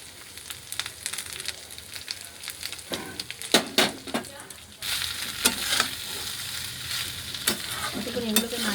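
Whole garam masala spices, black pepper, shrimp and egg sizzling in a hot pan while a spoon stirs, crackling frying that grows louder and brighter midway, punctuated by sharp scraping clicks.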